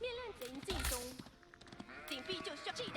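Sheep in the strategy game Age of Empires 4 bleat several times in wavering cries, layered over game ambience and a talking voice.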